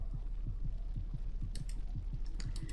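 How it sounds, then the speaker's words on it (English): A heartbeat sound effect from the otome video game Fate's Masquerade thumps in a steady, close, muffled rhythm of repeated paired beats over a low hum. "Oh no, not the heartbeat sound effect."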